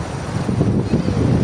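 Wind buffeting the microphone in a low, gusty rumble, fairly loud and continuous.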